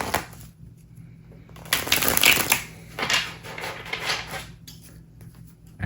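Tarot cards shuffled by hand, a soft papery riffle that comes in two bursts of several seconds each, close and moderately loud, with quieter rustling between them and no talk over it.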